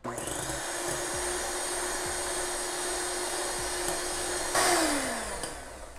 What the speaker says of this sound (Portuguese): E agora eu vou acabar aqui de bater até no ponto que eu quero